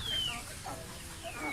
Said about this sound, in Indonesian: dengar suara ayam pelung sangat menyejukkan sekali